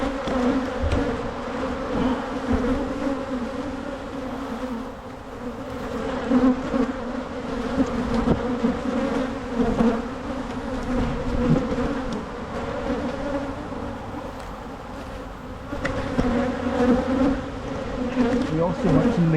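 Honeybees buzz steadily around open hive frames during hive work, forming a dense, continuous drone close by.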